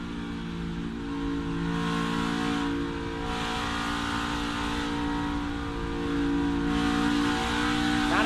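Cole Custer's NASCAR Xfinity Series car at Kansas Speedway during the Kansas Lottery 300, heard from onboard as a steady loud engine drone whose pitch rises and falls as he feeds in the throttle and lifts.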